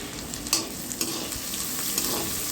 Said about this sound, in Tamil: எண்ணெய் ஹீட் ஆன பிறகு கொஞ்சம் ஜீரகம் போட்டுக்கணும்